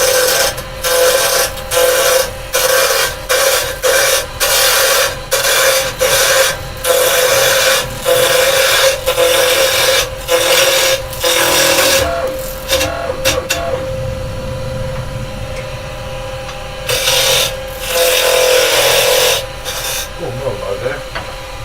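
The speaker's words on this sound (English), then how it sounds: "Doing some scraping, because that will produce the most stuff." Gouge scraping pine on a woodturning lathe, loud rhythmic rasping strokes repeating about once a second, then a smoother continuous whir before more scraping passes.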